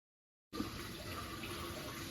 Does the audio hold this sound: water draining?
yes